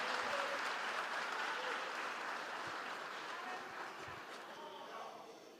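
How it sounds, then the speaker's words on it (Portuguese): A church congregation applauds together in a steady, dense burst of clapping that fills the room and slowly tapers off, at moderate distance with no clear talk. "Aplauda o Senhor."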